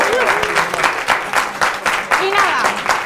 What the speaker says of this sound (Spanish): un fuerte aplauso para todos vosotros